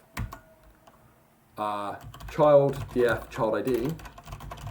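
Keys on a computer keyboard click softly while code is typed in a Python Pandas lesson. A voice starts talking partway through and carries on over the typing.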